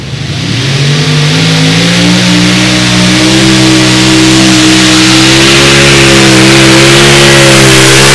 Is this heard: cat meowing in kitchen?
no